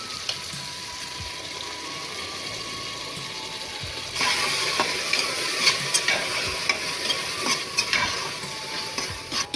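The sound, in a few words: ground masala paste added to hot tempering, sizzling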